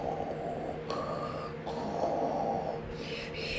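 A reader imitates a bear snoring in a children's story with voiced snorts and rasping breaths, a close, loud snore in several uneven pulls with short breaks between them.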